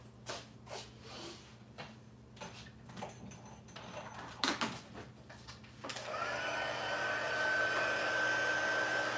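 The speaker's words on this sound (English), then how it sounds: "Let me grab my heat tool." After a few soft clicks and handling noises, a craft heat tool for card making switches on and blows with a loud, steady whooshing roar and a faint high whine.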